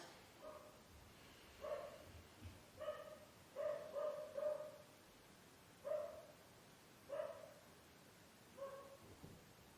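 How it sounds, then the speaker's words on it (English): Distant dogs bark in scattered bursts, some single and some doubled, faint against a quiet outdoor background. "dogs barking in my case"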